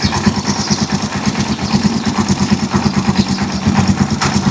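A Rusi Chariot 175 motorcycle engine idles steadily up close, its low, even chug pulsing in a fast regular rhythm throughout, with no talk over it.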